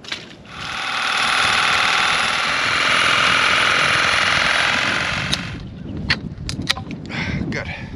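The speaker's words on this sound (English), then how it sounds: "we're gonna use the Sawzall to make a few cuts so we could take this three-way off" A Sawzall reciprocating saw cuts through a three-way plumbing pipe fitting, a loud, close, sustained buzzing run of about five seconds, followed by scattered knocks, clatter and voices.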